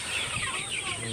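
Chickens cluck softly inside a chicken house, with several birds making a continuous low murmur of short calls close by and no talking.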